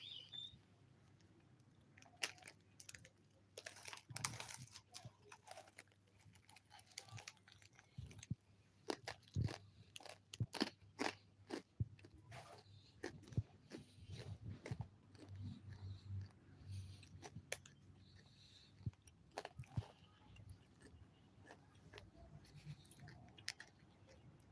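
Someone crunches and chews a crunchy cheese-flavored snack close to the microphone, with irregular crisp bites and chewing spread over a long stretch, mostly alone.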